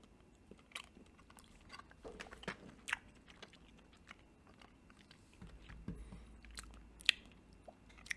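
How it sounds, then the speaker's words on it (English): Someone bites into and chews a Sugar Plum peanut butter and jelly snack bar, giving faint, scattered crunches and soft mouth noises close up, with no speech. "we'll just give it a bite and tell you how we feel"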